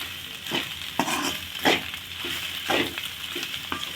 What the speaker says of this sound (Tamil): நல்லா வதங்கிடுச்சுங்க ஒரு நிமிஷம் வதக்கலாம் போதும்